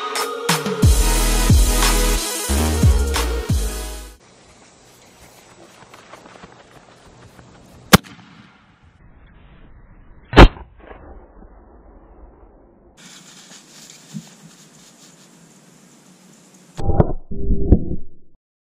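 A firework mortar shell launches from a tube wrapped in three layers of Flex Tape, with a loud rushing burst at first, then two sharp separate bangs several seconds apart amid quieter outdoor rustling.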